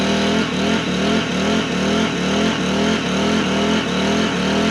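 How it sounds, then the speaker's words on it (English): Jaws of Life hydraulic spreader forcing apart a vehicle wheel, heard as a loud continuous motor drone with a pulsing, rhythmic throb and no pauses. "Let's do a little spreading action on these wheels."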